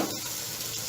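Goat brain (maghaz) frying with spices in a pan, a dense continuous sizzle heard briefly and closely, with no voices.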